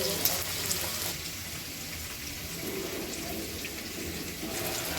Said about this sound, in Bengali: ভেজে নিচ্ছি সব একসাথে, পেঁয়াজ ক্যাপসিকাম লঙ্কা সব একসাথে ভেজে নিচ্ছি।